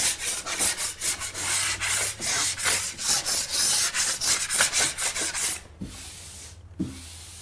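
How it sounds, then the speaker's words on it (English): Broad knife scraping rough spots off a freshly plastered patch on a plasterboard wall, a run of rapid scraping strokes close by, then quieter scrapes toward the end. "I want to take off any rough areas with my broad knife"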